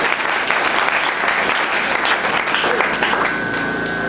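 A church congregation applauds steadily and loudly throughout, with dense clapping that continues at an even level for the full stretch, with no voices rising above it.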